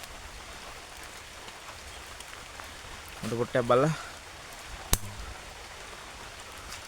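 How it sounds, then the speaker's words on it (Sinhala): Heavy rain pours steadily at a rock cave on Maavaragala mountain in Dambana, a constant hiss of falling water with someone speaking briefly over it and a sharp knock near the end. "මේ වැස්ස අදත් එදා වගේම අදත් වහින සීන් එකක් තියෙන්නේ"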